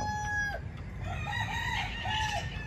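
A fighting rooster crows in a backyard coop, its call rising and holding in a few wavering bursts over a steady low rumble, with other birds chirping nearby and no talking.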